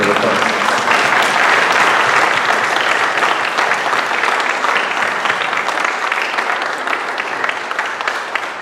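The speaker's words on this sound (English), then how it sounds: "A round of applause." Sustained audience applause at a film premiere Q&A, a dense, loud wash of clapping from a crowd that holds steady and then slowly tapers.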